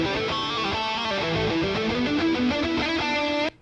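A PRS SE DGT electric guitar plays a fast melodic run through a Boss Katana Go pocket amp set to high gain with effects, sustained distorted notes ringing out before cutting off abruptly.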